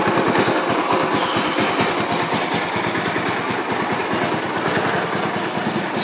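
A sports motorbike engine runs loud and close on a road trip, a steady rapid throbbing drone that continues without letup.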